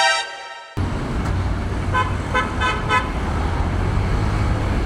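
Heavy street traffic heard from a Honda PCX 160 scooter, with a steady engine drone and road noise and a short run of car horn toots in the middle, fairly close.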